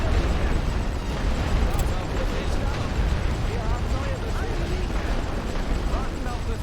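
Heavy artillery pounding a trench in The Great War: Western Front, a continuous rumbling barrage of distant booms and bursts under a steady roar, with someone talking over it.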